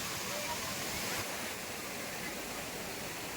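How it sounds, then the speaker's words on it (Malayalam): Thripparappu waterfall roaring in a steady, loud wash of white water close by, continuous and unbroken throughout. "ഈ വെള്ളച്ചാട്ടത്തിനടിയിൽ നിന്ന് നമുക്ക് വെള്ളച്ചാട്ടം ആസ്വദിക്കാൻ പറ്റും"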